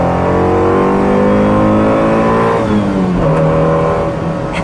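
A loud Honda CRX engine revving high and steady to 4000 rpm in second gear, its pitch climbing and then dropping briefly as the gear shifts before it pulls again, close and continuous.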